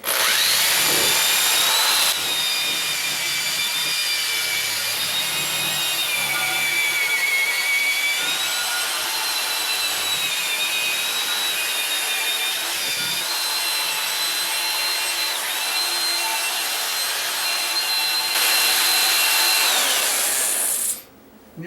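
Power drill spinning a wire wheel against a wheel during refinishing, a steady loud whirring grind with a shifting high whine, running continuously alone before cutting off at the end.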